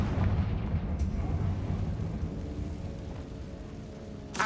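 In a Harry Potter video game, the Confringo blasting spell explodes as a heavy, sustained rumbling blast that fills the clip. It is loud and close, fades slightly, then ends in a short sharp burst.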